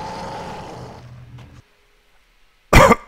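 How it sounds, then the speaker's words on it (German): A single harsh cough bursts out close and loud near the end, after a dim stretch of background sound fades into near silence. "Das habe ich mir jetzt verdient, dass ich auch mal husten darf."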